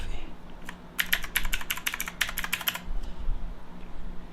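Rapid bursts of keystrokes on a custom-built mechanical keyboard, close and crisp, clustered over about two seconds, then the clacking fades into quiet room tone.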